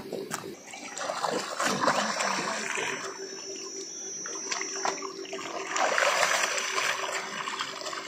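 Clothes being washed in a river splash and slosh in uneven bursts, with water churning close by and swelling louder toward the end.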